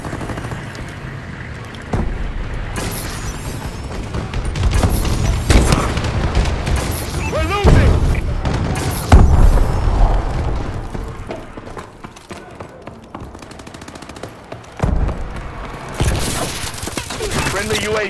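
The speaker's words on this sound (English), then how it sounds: "Enemy bombing run incoming!" Bombing run explosions and gunfire in the video game Call of Duty: Advanced Warfare, with loud booming blasts and rattling shots in dense bursts across the whole stretch, fading briefly before another heavy round of impacts.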